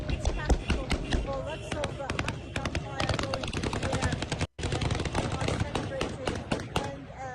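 Dense, continuous celebratory gunfire in Syria after Assad's fall, rapid overlapping bursts and single cracks of automatic and small-arms fire filling the scene, with crowd voices mixed underneath and a brief cut in the middle.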